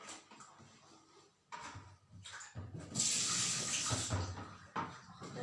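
About three cups of water poured and splashing into a container, coming in uneven gushes that grow louder and fuller toward the end, with faint handling noises and no voices.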